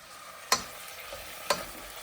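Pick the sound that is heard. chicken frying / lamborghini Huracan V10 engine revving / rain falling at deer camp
chicken frying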